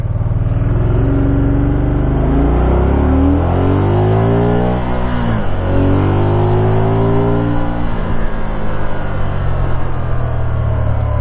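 A 2013 Can-Am Spyder RT Limited on a test drive, its engine loud and close, rising through revs then dropping sharply on downshifts, with repeated climbs and falls in pitch and no talking.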